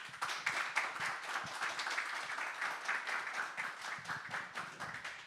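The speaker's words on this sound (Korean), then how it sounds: "모두 큰 박수로." Church congregation at a thanksgiving service giving a singer a round of applause before the performance, soft, moderately dense clapping that rises quickly and continues steadily.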